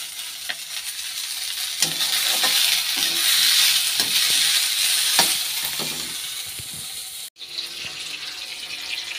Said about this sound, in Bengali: তেলের মধ্যে পেঁয়াজ কলি আর পেঁয়াজ দিয়ে ভাজা করে রেখেছি